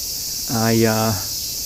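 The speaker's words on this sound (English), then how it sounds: "A lot of insects around today." Insects in a Tokyo allotment garden on a hot summer day make a constant high, thin buzzing drone throughout, and a brief hummed voice rises over it in the middle.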